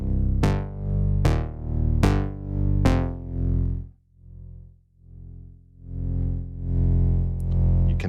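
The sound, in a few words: distortion effect plugin on music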